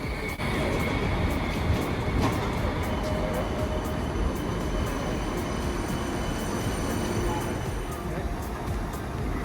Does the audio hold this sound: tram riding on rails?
yes